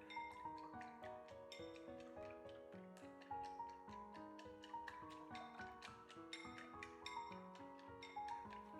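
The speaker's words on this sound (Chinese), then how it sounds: "用筷子搅拌均匀" Chopsticks beat eggs in a large bowl, with a steady, fast run of close, ringing clinks and ticks against the bowl, continuous and with no talking.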